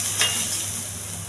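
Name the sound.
tempering with green chilies and ginger sizzling in oil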